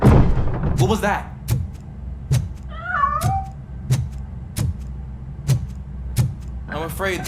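A cat in the video game RoboCop: Rogue City lets out a short rising meow mid-clip, with heavy regular footsteps thudding throughout and a voice speaking at the start and end.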